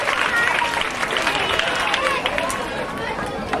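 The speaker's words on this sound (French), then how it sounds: "On applaudit très fort, cher tout petit" Audience applause at an outdoor charity ceremony in Port-Bouët, a dense steady clapping wash with crowd chatter, continuous and moderately loud throughout.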